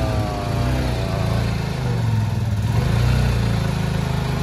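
A motorcycle engine idles steadily after its first start following winter storage on a fresh battery, a continuous mid-pitched throb with no speech.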